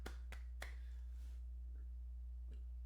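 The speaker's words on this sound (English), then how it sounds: "Clap it up for y'all" Sharp hand claps ring out close by, three in quick succession and then a single one after a pause, over a steady low electrical hum.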